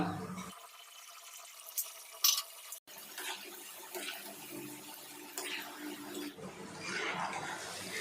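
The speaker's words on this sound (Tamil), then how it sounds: "இதை ஆயிலில் பொறிச்சு ஸ்டஃபிங் கூட நம்ம சேர்த்துக்கலாம் ஆயில் நல்லா சூடாகிடுச்சு இப்போ இதை சேர்த்துக்கலாம்" Onion pieces for samosa stuffing drop into hot oil; after a near-silent start, a soft hissing sizzle builds and keeps crackling and bubbling at moderate volume, close by and with no voices.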